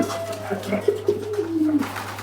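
Pigeons in a loft coo in low, rolling calls while jostling to eat grit, several overlapping coos close by against a steady low hum.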